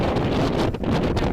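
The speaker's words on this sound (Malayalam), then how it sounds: "ഞങ്ങൾ പാറിപ്പോന്ന പോലെയാണ് കാറ്റ്" Strong wind gusting at a tall monument column in Georgia, a loud roaring rush buffeting the microphone throughout, with brief dips and swells and no talking.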